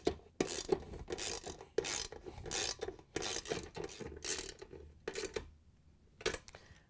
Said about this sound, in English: We're going to use our 3/8" socket with the ratchet to cut these threads in these holes